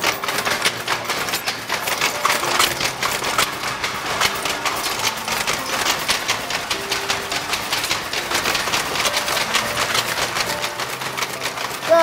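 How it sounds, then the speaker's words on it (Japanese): An early Showa period textile machine runs steadily in a reconstructed factory, a dense continuous mechanical clatter with rapid rhythmic ticking throughout, loud and close, no voices. "今から実際に機械を回して機械を切り替わるところをご覧いただきます。"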